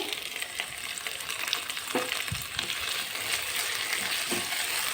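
Chopped capsicum and tomato fry in a pan with a dense, continuous sizzle, joined by a few soft scraping stirs, with no talking.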